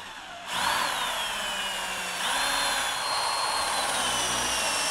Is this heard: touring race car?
no